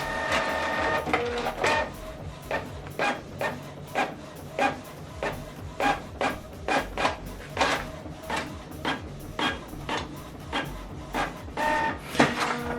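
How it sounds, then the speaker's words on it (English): A printer runs off a single page: a quiet, rhythmic series of mechanical clunks and whirring feed strokes repeating about once a second, close by, with no voices. "I'm going to print only page 1 now, and this printing, so only page 1 is going to print out."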